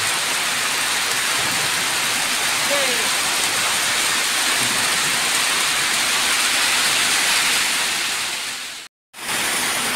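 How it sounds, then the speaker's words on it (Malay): Steady heavy rain pours continuously on a road trip toward Takengon, a dense broadband hiss filling the scene, briefly dropping out near the end before resuming. "Hujan lagi."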